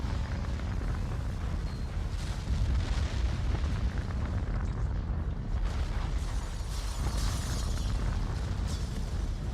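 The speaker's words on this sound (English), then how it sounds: "With a flash that momentarily wipes out all of Denola's scanning systems, the warlord's reactor detonates." A war machine's reactor detonating in a huge explosion, rendered as a dense, continuous low rumble and roar that stays loud and unbroken throughout, with no voices.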